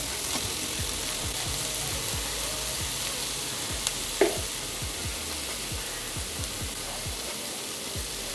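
Onion, spice paste, salt, turmeric and chili fry in a pan with a steady, close sizzle, broken by repeated scraping strokes as the mixture is stirred and a single sharp clink midway.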